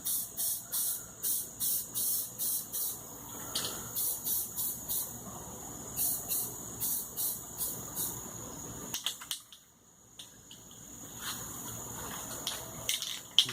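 A rattle can of spray paint used on a vehicle brush guard, with short repeated hissing bursts at a steady rhythm, then a pause and a few more sprays, close and moderately loud.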